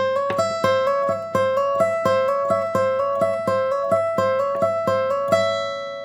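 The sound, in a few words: guitar rolling hammer-on lick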